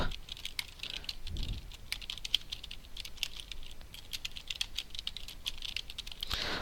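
Fingers type rapidly and continuously on a computer keyboard close by, giving a dense patter of light clicks with no voice over them.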